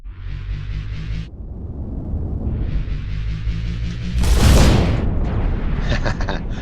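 A video game explosion bursts out as a loud, deep boom with a broad crackling blast partway through, set against a steady droning game backdrop with no talk.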